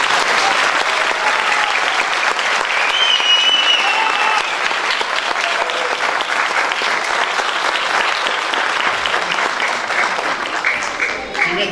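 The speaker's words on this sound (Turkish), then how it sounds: "Bir alkış daha var çok." Sustained applause from a school audience after a primary school theatre performance, dense and steady clapping at close range for about twelve seconds, fading slightly at the end.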